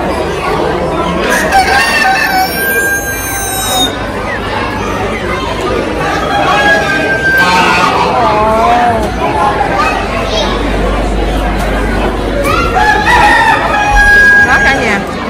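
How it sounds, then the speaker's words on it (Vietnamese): Roosters crow repeatedly at an American county fair poultry exhibit, several loud, near calls rising over clucking hens and a busy hum of crowd chatter and voices. "Trời ơi, có mấy em gà nè,"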